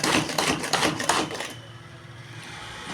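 Onions get chopped in a hand-pressed manual chopper, giving a quick burst of sharp, rhythmic clacking for about a second and a half before it falls to a faint background hum.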